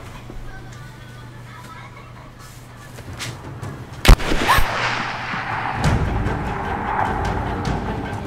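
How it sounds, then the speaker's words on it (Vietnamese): Gunfire in the Rise of the Tomb Raider video game: a sharp, loud shot cracks out, followed by further bursts and rumbling blasts that sit over a steady background hum. "Phải có tiếng súng kìa."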